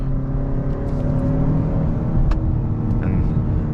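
A 2021 Hyundai Sonata N Line with an 8-speed wet dual-clutch transmission drones steadily from inside the cabin, a loud, constant low engine and exhaust hum with no synthetic sound added.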